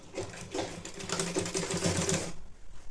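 A sewing machine stitches a baby saliva towel in a short continuous run. The close, rapid mechanical whirring lasts about two and a half seconds, then stops abruptly.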